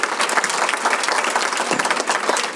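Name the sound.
audience applause for moderator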